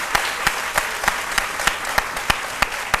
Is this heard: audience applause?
yes